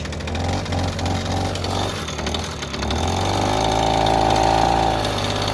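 The small two-stroke engine of a Komar 2328 moped with a CDI ignition idles steadily nearby while warming up, its buzzing drone rising slightly and settling into a higher, even hum partway through.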